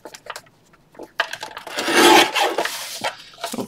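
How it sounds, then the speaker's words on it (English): A torn paper edge is being trimmed, giving a close, scratchy rasp that builds into a sustained rough cutting or rubbing stretch in the middle, with a few shorter scrapes before and after and no talking. "I'm going to trim this off because I've definitely got it torn crooked"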